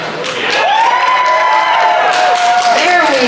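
A convention crowd at CarrierCon cheers and whoops loudly, a dense roar of voices with rising and falling shouts that stays sustained throughout.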